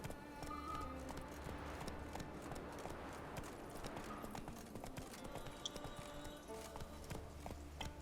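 Roach the horse in Witcher 3 trots along, hooves clip-clopping in a steady rhythm over a continuous outdoor ambience, moderately quiet and unbroken.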